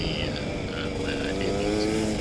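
A KTM 250 off-road motorcycle engine runs loud and steady up close on a ride in the rain, a continuous buzzing drone whose pitch shifts slightly as it pulls through the gears.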